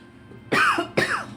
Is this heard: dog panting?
no